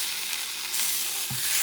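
Liver with onions frying in a pan with a little vinegar, giving a steady close sizzle throughout and a brief stirring scrape near the end, with no talk.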